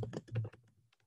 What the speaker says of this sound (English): I could type Google Classroom in the browser